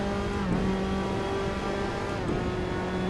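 Tatuus Formula Abarth single-seater race car on the Imola circuit in Assetto Corsa, engine droning steadily at high revs with a brief gear-shift dip, loud and continuous with no talk.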